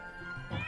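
A single short cat meow from a video game where a dog grows by eating stray cats, brief and moderately loud over a steady electronic hum.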